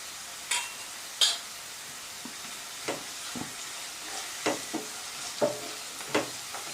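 Green chilies and onions fry in oil in a pan, giving a faint, steady sizzle broken by soft scrapes and clicks of stirring.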